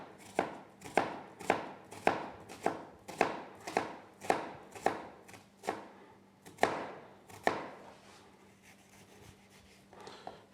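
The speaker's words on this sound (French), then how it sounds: "des oignons qu'on va les hacher" Onions finely chopped with a knife on a board while a tagine preheats over low heat, about fifteen brisk, evenly spaced close chops that slow and fade out toward the end.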